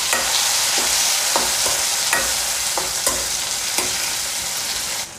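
Tomato pieces and green chillies fry in a pan, a steady bright sizzle broken by repeated sharp scraping taps of a spoon stirring, close and loud with no talking.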